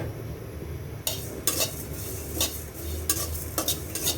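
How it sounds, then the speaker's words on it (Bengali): Coriander and cumin seeds dry-roasting in a pan, with a steady low sizzle and a spoon scraping and stirring in several quick strokes, close and fairly quiet. "একটু ধইনা আর একটু জিরা হালকা একটু ভেজে নিব।"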